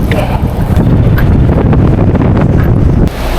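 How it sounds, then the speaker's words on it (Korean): Strong wind buffets the microphone on a fishing boat out octopus fishing at sea, a loud, constant rumbling roar with gusty fluctuations that drops slightly at the end. "와, 바람 진짜 세다."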